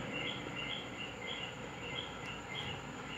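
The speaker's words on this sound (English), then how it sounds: "crickets and birds and" Crickets chirp in steady repeated pulses, faint and continuous, with an occasional bird call in the quiet background.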